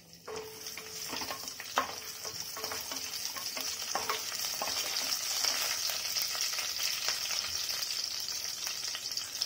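Fennel seeds and two chillies frying in hot oil, a bright continuous sizzle that builds and holds, with scattered spoon scrapes and stirring clicks near at hand.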